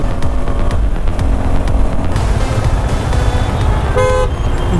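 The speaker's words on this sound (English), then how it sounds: "Back to Bengaluru traffic on a Sunday evening. Crazy traffic here at Hebbal Junction." Crazy Sunday-evening traffic at Hebbal Junction in Bengaluru, a close, loud, steady rumble of engines with several sharp car horn toots cutting through, one longer honk near the end.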